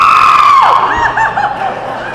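Audience screaming and cheering at a comedy benefit show for the Ventura Police K9 unit, a loud sustained crowd roar with high shrieks and whoops that eases slightly but continues throughout.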